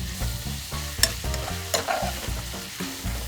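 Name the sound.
pork belly and burdock stir frying in a pot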